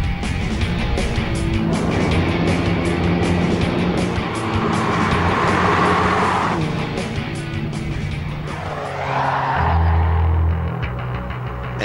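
A 1980s Ford family car drives fast with a steady, loud engine roar and road noise throughout, swelling and fading as it passes, with no voices.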